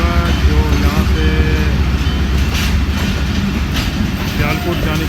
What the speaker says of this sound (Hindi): अभी ये मेरे ख्याल में अल्लामा इकबाल एक्सप्रेस होगा, जो यहाँ से